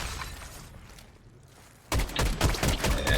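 Gunfire in Fortnite, a dense burst of rapid shots erupting loudly after a quieter stretch of faint game ambience, continuing to the end.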